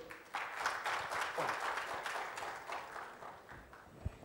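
An audience applauds as a speaker is welcomed on stage to give the welcome address at an event, a soft, distant, steady patter of many hands clapping that tapers toward the end.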